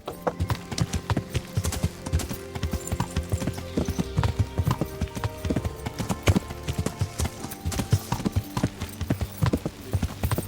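Horse hooves beat in a steady, fast clip-clop rhythm during riding in the medieval video game Kingdom Come: Deliverance, loud and continuous throughout.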